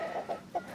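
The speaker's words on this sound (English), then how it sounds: "I also got these 50 meat birds that are all roosters" Young meat-bird roosters in a coop give a few short clucks and squawks in quick, irregular succession, close by and moderately loud.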